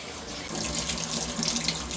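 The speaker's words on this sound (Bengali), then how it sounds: "এই পাশ দিয়ে দেখেন অনেকগুলা ধনে পাতা ধুয়ে নিতেছে" Tap water runs steadily over a bunch of coriander leaves being washed in a sink, a continuous close splashing hiss with no talking.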